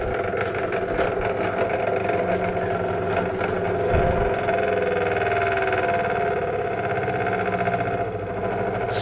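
The motor-driven colour wheel of a field sequential camera system whirs with a steady, close, humming drone that shifts gradually in pitch as the wheel's speed changes.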